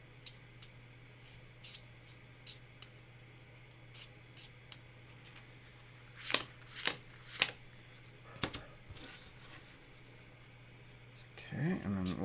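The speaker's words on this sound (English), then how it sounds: "we'll shuffle this other deck and draw these abilities out" A deck of cards for a solo tabletop game is shuffled by hand, with scattered crisp riffles and snaps building into a dense burst of shuffling at the end, all quiet and close.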